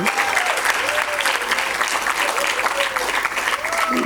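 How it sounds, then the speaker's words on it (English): Steady, dense applause from an audience at a school annual function, following a nursery children's dance performance; continuous clapping and crowd noise with a faint tonal squeal running underneath. "Let's give a big round of applause for our kids there."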